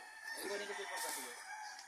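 A fighting rooster on a farm crows once, a loud, close, drawn-out call lasting about two seconds.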